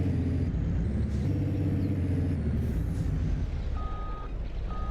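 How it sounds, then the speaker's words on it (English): Vehicle backup alarm in the Farming Simulator video game, with repeated steady beeps coming in near the end over a constant heavy truck engine rumble and hiss of farm machinery. "That fantastically obnoxious backup alarm."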